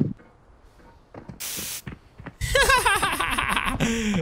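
Spray being applied in the Arena Breakout shooter game: a brief hissing burst early on, followed by louder busy game noise with mechanical clicks and rattles, while a person laughs.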